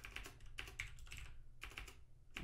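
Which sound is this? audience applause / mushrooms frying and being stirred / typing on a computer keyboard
typing on a computer keyboard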